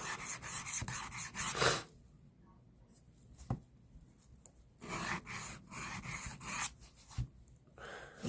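A knife blade is drawn across the finer side of a sharpener in short rasping strokes, close and fairly quiet, arriving in bursts separated by brief pauses.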